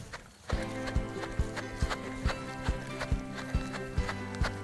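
Horses walk past with a steady, close clip-clop of hooves, each step a sharp knock repeating in an even rhythm over a faint outdoor background.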